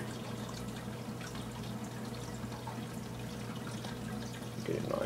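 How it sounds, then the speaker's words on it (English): Fish tank water poured from a small cup into soil-filled windowsill seed pods, a soft steady trickle over a constant low hum, with a brief louder splash near the end. "Pour the water in."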